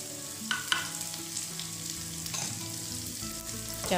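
Lemongrass and chili frying in a pan for Indonesian nasi goreng liwet: a steady close sizzle with occasional stirring scrapes and clinks of a spatula.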